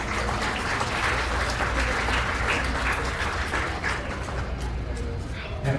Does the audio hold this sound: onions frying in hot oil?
no